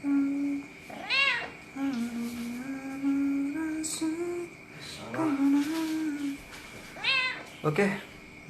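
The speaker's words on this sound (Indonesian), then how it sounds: "kucing blasteran luwak ini" A mixed-breed cat, a cross with a civet, gives several close meows spread out with short pauses between them, while people talk nearby.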